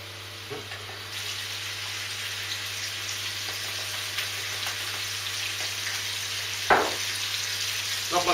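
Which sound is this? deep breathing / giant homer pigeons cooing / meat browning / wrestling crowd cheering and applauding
meat browning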